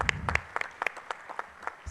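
Scattered applause from delegates at a Vibrant Gujarat summit session on liveable cities, a thin patter of individual claps, fairly distant and sparse rather than a full roar.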